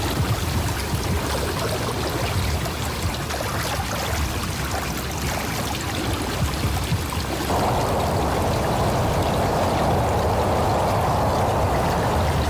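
Swift, cold shin-high water flows in Still Ridge as a continuous close rushing stream, growing brighter and more splashy about halfway through and staying unbroken with no speech.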